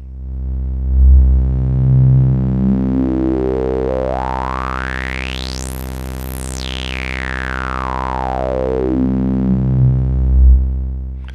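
A droning synthesizer tone through a GSE XaVCF Eurorack filter, resonance sweeping slowly up to a piercing peak and back down, whistling harmonics standing out along the way.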